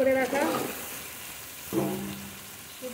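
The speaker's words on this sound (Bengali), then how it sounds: "এবার খুব ভালো করে মশলার সঙ্গে নেড়ে নেব।" Potatoes, boiled chickpeas and peas fry in spices in a pan, a soft steady sizzle with scraping stirring strokes near the start and again midway, while a voice speaks briefly over it.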